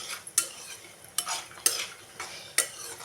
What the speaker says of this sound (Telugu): ఇదిగోండి నేనైతే పెసరడియలు అయితే వేసేసుకుంటున్నాను